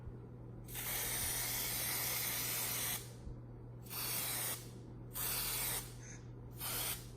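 Aerosol spray can hissing onto fabric of a car door panel in four bursts, a long first spray then three shorter ones with pauses between, close and steady, no talking.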